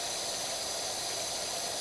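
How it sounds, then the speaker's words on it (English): A pressure washer sprays continuously in Power Wash Simulator, a bright steady hiss of water under pressure that stays even and fairly quiet for about two seconds with no talking. "Let's go ahead and spray it off."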